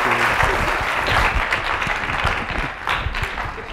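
Warm applause from an audience at a writing program event, dense overlapping clapping that stays full and loud, easing slightly before swelling again near the end, with no talk over it.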